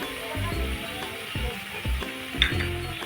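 Tripe (vajdi) sizzles as it goes into well-roasted masala for a rustic village-style mutton thali, a steady frying hiss broken by low stirring thumps and scrapes.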